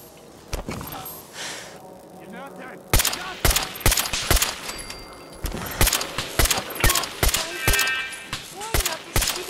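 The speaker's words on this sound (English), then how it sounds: "We are being shot at." Gunfire in an armed encounter with an unknown enemy: a burst of sharp, loud cracks, clustered shots repeating through most of the stretch after a quieter opening, with a voice heard between shots.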